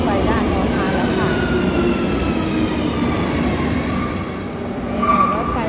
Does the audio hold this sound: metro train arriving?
yes